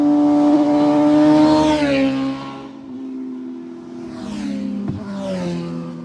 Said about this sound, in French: Oh, les motos qui s'en viennent. Et c'est bon, elle vient vite.